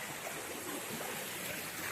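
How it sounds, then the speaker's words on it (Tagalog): Stream water at Puray Falls, after a typhoon, flows with a constant broadband rush, steady and fairly close, with no voices. "So, ito yung dinadaanan na tubig."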